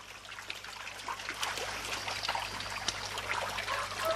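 Water trickles and pours steadily as small fish are released into a biofloc tank, a close, continuous splashing dribble with no talking.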